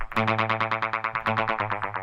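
A guitar signal passes through an echo effects unit with the echo volume turned up, giving a fast train of evenly spaced, pulsing repeats that sound loud and close, with no talking.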